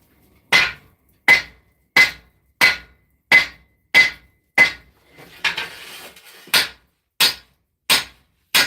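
A hammer knocks down the recurve of a forged Zangetsu sword from Bleach. About eleven sharp, ringing metal blows land in a steady rhythm, broken midway by a short hissing, scraping burst.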